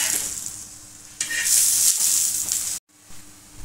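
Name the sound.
thalipeeth flatbread roasting in oil on a pan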